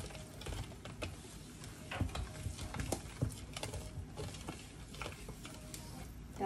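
Ingredients being stirred together with a cup of oil in a mixing bowl: steady close scraping and clinking of a utensil against the bowl, with irregular sharper knocks throughout.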